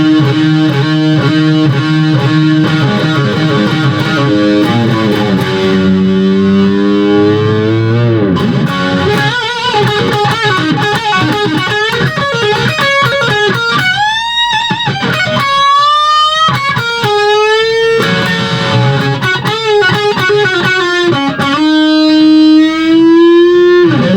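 Electric guitar solo from a song, loud and distorted with bent, sustained notes and fast melodic runs, played alone throughout.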